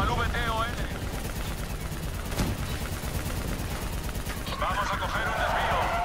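Rapid gunfire aimed at a VTOL aircraft during a Call of Duty Black Ops 3 campaign mission, dense bursts of shots over a constant engine roar, close and loud, with shouted voices mixed in.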